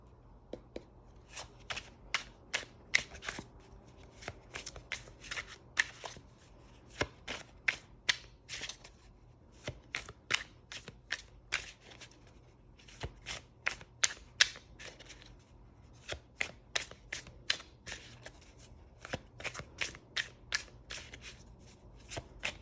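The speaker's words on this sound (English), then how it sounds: "let's get into shuffling the cards for your reading" Tarot cards are shuffled by hand in quick bursts of sharp riffling snaps, each followed by brief pauses, close and quiet against a faint steady hum.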